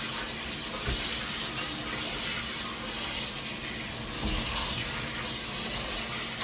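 Tap water runs steadily into a sink while ingredients for Korean banchan are rinsed, a soft continuous splash with a couple of brief clunks as things are moved under the stream.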